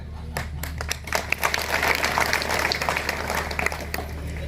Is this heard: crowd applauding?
yes